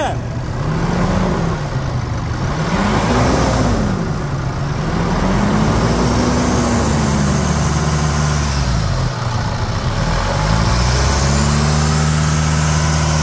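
A Chevrolet S10 pickup's 2.8 engine, with engine oil in its radiator, idles with a steady low rumble, its pitch gently wavering up and down as it runs close by; a voice speaks over it.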